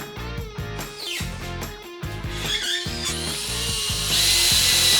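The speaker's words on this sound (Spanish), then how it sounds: "¿es necesario avellanar si es para un mueble de bodega?" A power drill countersinks screw holes in wood for a cellar storage shelf, its whine rising and dropping in several short runs separated by brief stops, loud and close.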